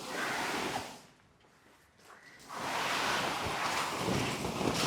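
Gusty wind blowing at a campsite, roaring loudly and buffeting close by, easing off briefly before surging back strong.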